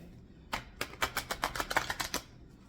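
Tarot cards being shuffled: a quiet run of rapid, papery riffling flutters lasting about two seconds, close by, with nothing else heard.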